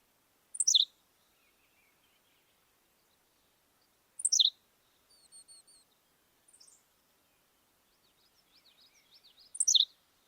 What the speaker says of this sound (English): this very short, very compressed song of the Henslow's sparrow